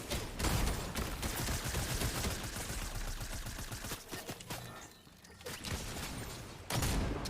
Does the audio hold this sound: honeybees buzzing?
no